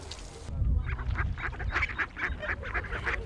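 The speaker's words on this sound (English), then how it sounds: "The Nyawita Bee Working Group keeps ducks." Ducks kept by a farming group quack and honk in a lively, repeated chorus, a flock calling close by in rapid overlapping bursts after a short noisy start.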